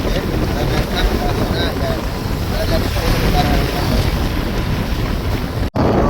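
Strong wind gusts across a bridge in Jaffna, a steady loud roar of buffeting air against the microphone throughout, with no talk over it.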